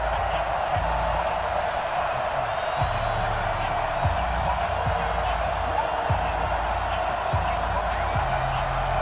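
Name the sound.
sold-out stadium crowd in the Madden NFL 20 video game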